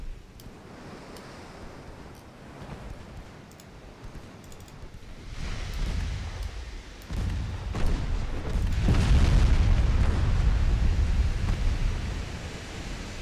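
A torpedo explosion strikes a ship in the naval game Iron Dukes, starting as a rumbling, surf-like wash and building into a deep, sustained boom that swells loudest toward the end.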